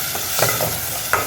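Mint and coriander leaves are stirred into a hot, sizzling pan of Ambur mutton biryani, giving a steady close frying hiss with a couple of soft scraping stirs.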